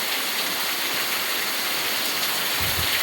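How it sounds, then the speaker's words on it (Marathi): Heavy rain pours down in a steady, dense wash of noise, loud and unbroken for the few seconds, with a faint low rumble near the end and no voices. "पाऊस बघा की"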